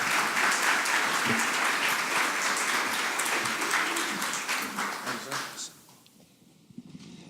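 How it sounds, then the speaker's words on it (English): An audience applauds at a fundraising conference, steady dense clapping that holds for about five seconds and then fades away into near quiet. "let's give Steve Spinner a round of applause"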